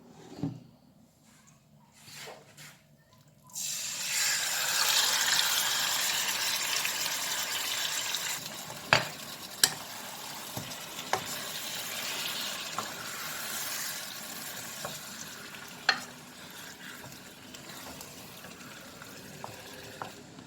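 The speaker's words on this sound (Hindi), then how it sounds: "ऑयल गरम हो चुका है, अब इसमें मैरिनेटेड चिकन डालेंगे।" Marinated chicken dropped into hot oil in a cooking pan sets off a sudden loud, steady sizzle that continues for the rest of the stretch, with occasional sharp pops and clinks over it after a quiet start.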